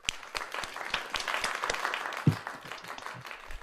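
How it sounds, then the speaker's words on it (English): Members of a teen improv group applaud themselves at an acting studio showcase, a scattered, fairly small burst of clapping with distinct individual claps that swells briefly and then thins out, a bump of movement partway through. "Everyone give yourselves a round of applause."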